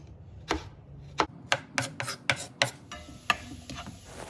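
A sharp knife finely chopping food on a board gives about a dozen crisp, close taps in a loose, uneven rhythm over a quiet background.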